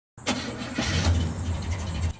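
A Chevrolet squarebody truck engine fresh from a starter solenoid swap cranks briefly and catches, then settles into a rough, uneven idle, close and loud with no talking.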